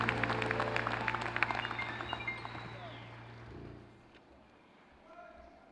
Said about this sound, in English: One more round of applause for the 2019 graduates